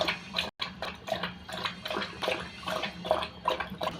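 Dog lapping water from a bowl, a continuous series of quick wet laps and sloshes up close.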